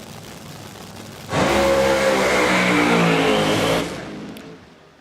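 A drag racing dragster at Willowbank Raceway in Queensland, Australia, erupts into a loud, roaring engine burst that holds steady for about two and a half seconds and then fades into the distance.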